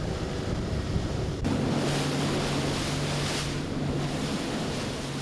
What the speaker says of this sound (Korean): 오늘따라 파도가 거센데요.